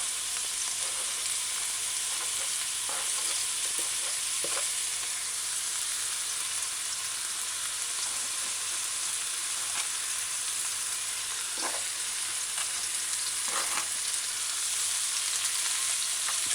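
Chopped scallion sautéing in a pan on medium-low heat for a fish and baked beans stew, a steady close sizzle throughout with occasional soft crackles and faint stirring scrapes.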